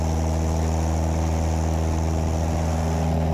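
Cessna 172 single-engine prop plane during a soft-field takeoff, its engine roaring steadily at full power with a loud, continuous drone and propeller buzz throughout, close and unbroken, with no talk.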